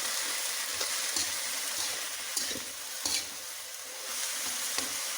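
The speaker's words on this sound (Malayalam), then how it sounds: "ഒന്ന് ഇളക്കി കൊടുക്കാം." Elephant yam leaf thoran being stirred in a pan for a Kerala recipe, a continuous close sizzle with soft scraping strokes and a few brief clinks, no talking.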